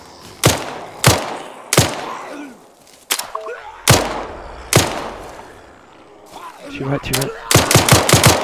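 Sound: gunfire from the video game Arma 3

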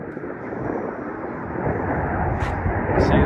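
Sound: fighter jet flying overhead

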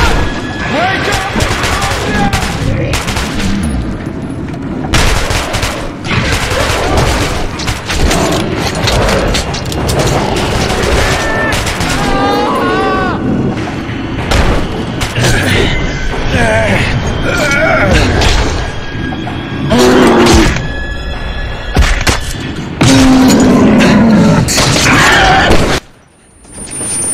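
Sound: gunfire and explosions in Metro 2033 Redux video game

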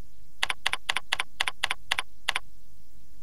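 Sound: typing on a computer keyboard

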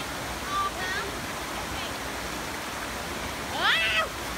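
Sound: waterfall flowing

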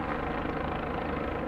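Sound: U.S. Border Patrol helicopter flying overhead

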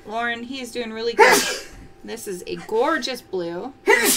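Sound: sneeze

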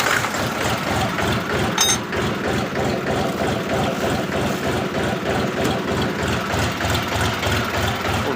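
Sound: DTZ mini tractor engine started and running

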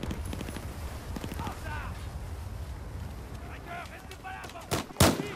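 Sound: explosions in the video game Battlefield 4

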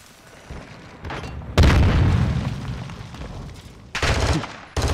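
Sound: grenade explosion in a video game

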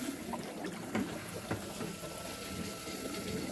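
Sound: DIY dual venturi pumping water and air into a tank

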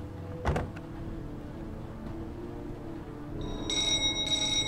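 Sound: doorbell ringing in video game Heavy Rain

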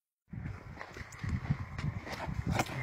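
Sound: horse hooves clip-clopping

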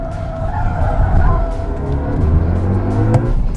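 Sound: BMW i5 electric sedan tires squealing while accelerating

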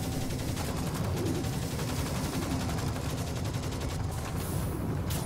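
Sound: turret gunfire in video game Firefall

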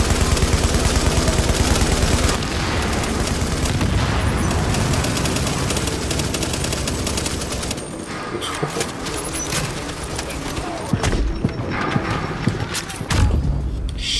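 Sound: gunfire in video game The Division

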